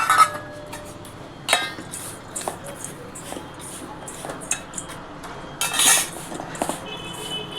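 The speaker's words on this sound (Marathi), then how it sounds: "तीळ भाजले होते त्याच्यामध्ये आता मी ते एकत्र मिश्रण करते।" Roasted sesame seeds and crushed peanuts being mixed together in a metal vessel, producing scattered spoon clinks and scrapes, a few louder knocks and shuffling grains, heard close up without talk.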